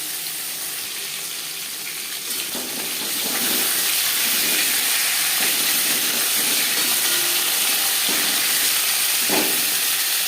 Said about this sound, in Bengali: আর দিয়ে দিলাম দু পিস পেটি